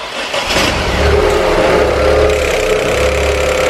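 A Dacia Sandero III engine runs on LPG, a loud, steady idle rumble with a buzzing, whirring tone, heard up close in the engine bay.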